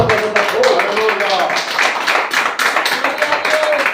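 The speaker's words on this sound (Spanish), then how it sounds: "Le doy un fuerte aplauso al Señor." Congregation clapping for the Lord during a church service, a dense stream of hand claps running steadily throughout with voices heard alongside.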